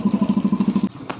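A motorcycle engine chugs in a quick steady rhythm of low pulses close by, then cuts off abruptly, leaving a brief clatter.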